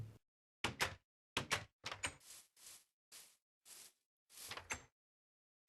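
Trapdoors in Minecraft Bedrock Edition open and close repeatedly, about eight crisp wooden clacks spaced roughly half a second apart, loud and isolated against silence.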